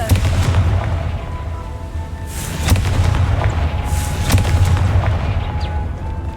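Confringo blasting spell in Hogwarts Legacy, a rumbling series of loud booming explosions, several sharp blasts spaced a second or so apart over a constant low roar.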